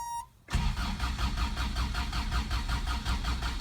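A 1987 Toyota Pickup with a 22R engine on a lifted 2WD truck cold-starting: a short crank, then the engine catches and settles into a steady, loud, rhythmic idle, close up.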